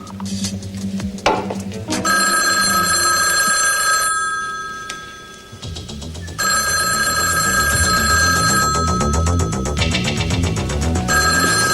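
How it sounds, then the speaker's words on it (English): Telephone bell ringing repeatedly in a soap-opera scene, loud, steady rings mixed with background music and a brief gap, with no talk over it. "Come on, Janice, answer the phone."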